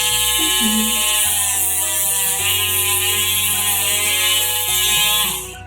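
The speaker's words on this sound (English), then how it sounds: "is to use a rotatory tool like the Dremel. So you basically turn that on" A Dremel rotary tool grinds down a restrained nail with a loud, steady high-pitched whine that holds for several seconds, shifts pitch slightly partway through and then winds down at the end.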